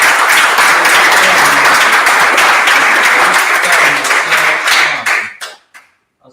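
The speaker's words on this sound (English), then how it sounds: "deserves a round of applause from" Loud, dense applause from an audience for Labour policy panel members at a party event, sustained for about five seconds before thinning into scattered claps and stopping.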